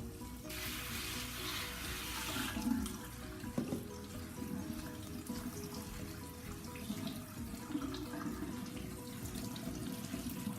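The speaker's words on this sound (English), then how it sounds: "Make sure that you're giving it a really nice rinse." Kale leaves are rinsed under a running kitchen tap, a continuous splashing rush of water against a sink that holds steady throughout, with no talking.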